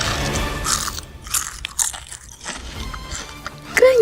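Thin, spicy crispy wonton chips are bitten and chewed close to the mouth, giving a run of sharp crunches and crackles, with a bag rustling lightly between bites.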